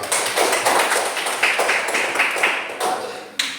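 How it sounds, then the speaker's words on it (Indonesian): A classroom group gives a short burst of applause for a student group. Irregular claps run for a few seconds at moderate loudness, then fade out. "Ya, tepuk tangan dulu buat kelompok 1."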